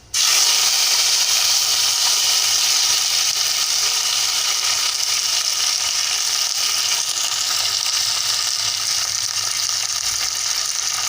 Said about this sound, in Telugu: ఇప్పుడు నేను కరివేపాకు వేస్తున్నాను.